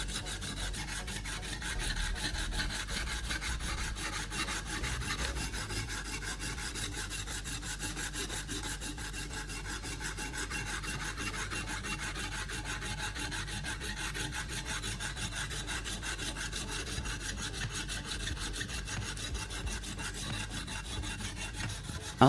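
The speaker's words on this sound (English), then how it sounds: "I start by sliding the coarse sandpaper block back and forth along the edge of the blade." Coarse sandpaper block rubbed back and forth along a knife blade's edge to sharpen it, a continuous rasping scrape in smooth, steady strokes, close and moderately loud with no talking.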